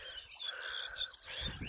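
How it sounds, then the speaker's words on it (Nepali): Small birds chirp over a flooded field at a village, quick high twittering calls scattered through the moment, faint and a little distant over a low outdoor background. "चरा हेरौँ न चरा फेरि कति आउँछ पानी पटाएको ठाउँमा चरा"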